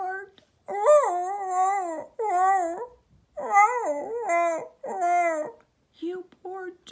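A dog gives a run of loud, drawn-out yelping barks with whiny, howl-like tones, repeated several times with brief pauses between them.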